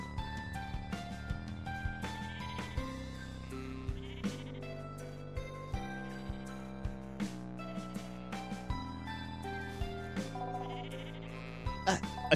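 Sheep bleating in the video game ITTA, short bleats repeating at intervals over a steady game music backdrop with percussive hits, moderately quiet throughout.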